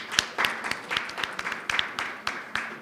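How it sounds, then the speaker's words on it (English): Sparse, uneven clapping from a small audience at a gathering of Nigerians in Russia, a handful of hands striking in loose rhythm, fairly near and moderately loud, with no talking over it. "Come on, please keep clapping."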